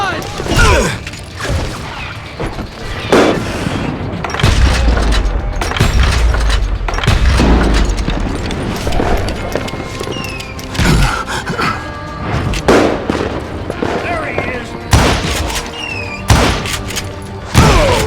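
Gunfire from the Western shooter Call of Juarez: Gunslinger, with loud, scattered revolver and rifle shots, booming thuds and mechanical clicks of reloading set over a continuous game soundtrack, with brief shouting between the shots.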